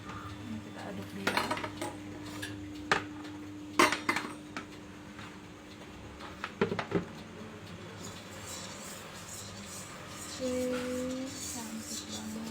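Spoon clinking and scraping against a bowl while stirring Japanese cheesecake batter, in irregular bursts of sharp taps with quieter scraping between, close and clear, with a faint tonal hum near the end.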